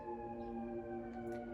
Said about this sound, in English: confirmation right there from those sirens